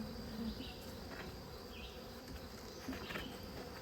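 A low, steady hum of honeybees buzzes from an open rescued hive during an inspection, faint and continuous with a few individual bees droning closer now and then.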